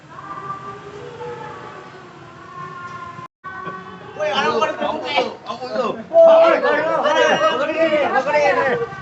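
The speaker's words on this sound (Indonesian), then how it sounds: "Ih, ada apa tuh rame-rame?" A street crowd erupts in commotion over a motorbike theft, with many excited voices overlapping and growing louder after a brief quieter stretch of talk.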